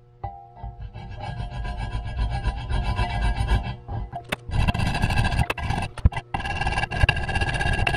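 Rough rasping and rubbing as a badly machined upper intake on a 2019 Jeep Wrangler Rubicon JL is trimmed down for a supercharger install, close and loud, with uneven strokes and sharp bursts.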